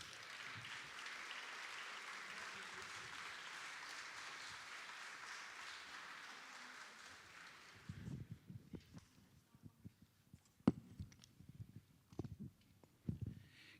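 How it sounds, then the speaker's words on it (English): A crowd at an outdoor proclamation ceremony on Kauaʻi applauds dignitaries honouring an Olympic surfing silver medalist. The applause is steady and dense for about eight seconds, then thins to scattered, uneven claps. "So how's about a round of applause for our dignitaries here?"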